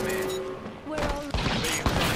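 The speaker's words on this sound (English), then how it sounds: "They're shooting at me." Video game gunfire, a burst of sharp cracks and pops arriving partway through over a steady in-game hum, with someone talking over it.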